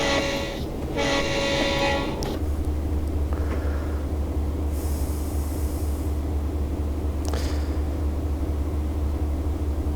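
An Amtrak EMD E8 locomotive horn in Train Simulator Classic blasts in two long sustained notes at the start, over a steady low locomotive rumble that continues afterward.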